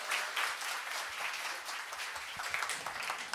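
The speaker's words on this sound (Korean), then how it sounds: "우리 스타일은 박수로 맞이하는 거 아닌가요?" A church congregation at a Sunday service applauds to greet the next speaker, a dense, continuous crowd clapping heard from within the room.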